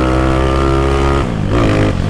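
A 371cc engine in a Honda Today motorcycle revs hard and loud at close range, holding a high buzzing pitch before dropping and climbing again in a second surge.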